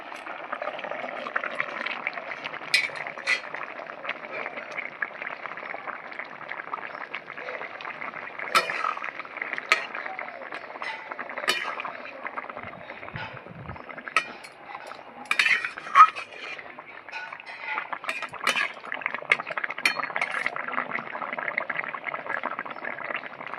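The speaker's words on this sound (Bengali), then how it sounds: "সব সবজিগুলো সেদ্ধ হয়ে গেছে ভেজে রাখা মাছগুলো দিয়ে দিচ্ছি" Fried rohu fish pieces go into a pan of simmering vegetable curry, with soft clinks of a utensil against the pan and a low bubbling, scattered taps continuing at close range without talk.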